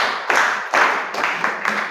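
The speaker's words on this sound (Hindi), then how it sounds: "चलिए तालियां बजा दीजिए।" Audience clapping at a riddle quiz show, loud and close, in several bursts of dense applause with brief dips between them.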